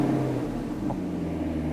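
A C7 Corvette engine running just after an oil change: a steady, loud, close low rumble with a slight rise in revs partway through, alone without talk.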